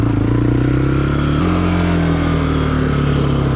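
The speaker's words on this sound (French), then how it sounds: "c'est un petit combo 2 roues et déclencher un wheeling en 2 roues" A Yamaha 350 Warrior motorcycle runs loud and close during a wheelie, its steady engine drone shifting pitch partway through, with no voices.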